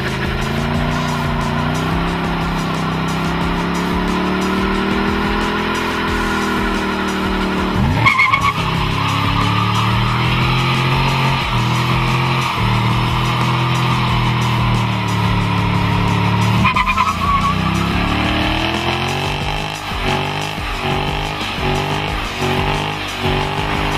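A 2011 Ford Mustang GT, Chevrolet Camaro SS and Dodge Challenger SRT8 doing tire-smoking burnouts: loud, sustained V8 engine roar with screeching tires and shifting revs throughout, with no talking.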